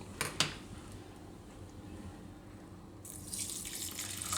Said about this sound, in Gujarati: તો આ કડાઈમાં આપણે ખાંડ નાખીશું અને થોડુંક જ પાણી નાખીશું.